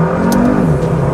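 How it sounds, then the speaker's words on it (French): A KTM X-Bow GT-XR's engine and turbo pull hard under acceleration, a loud close continuous roar with a steady rising tone and brief high whooshes. "tu entends vraiment le moteur et le turbo"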